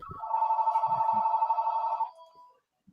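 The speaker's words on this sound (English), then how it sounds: "And my phone's still ringing like always." A phone rings with a single sustained electronic tone lasting about two seconds, close and clear, with a few soft knocks underneath before it cuts off into silence.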